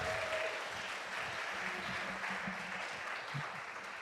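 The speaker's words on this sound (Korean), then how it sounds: "How about a round of applause?" A church congregation at a Sunday joint service claps in a steady, fairly faint round of applause, an even wash of many hands with low murmuring beneath.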